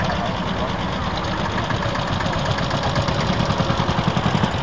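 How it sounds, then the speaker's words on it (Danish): A 30-horsepower farm tractor in Denmark idles close by with a loud, steady, rough chugging that runs unbroken throughout, its low knock pulsing faintly toward the end. "En traktor på 30 heste"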